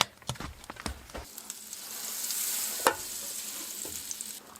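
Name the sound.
onions frying in a pan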